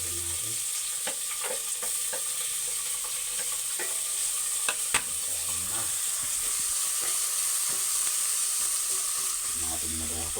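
Chopped onion and ginger sizzling in a hot frying pan for a Filipino ginisang opo sauté, a loud steady hiss with occasional stirring scrapes, no talk.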